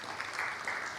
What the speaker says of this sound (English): if round of applause.